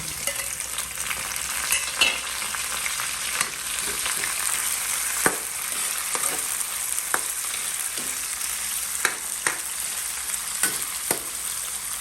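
Chopped tomatoes frying in a pan while squid adobo is being prepared, a steady close sizzle broken by intermittent scraping and clicking of a utensil stirring.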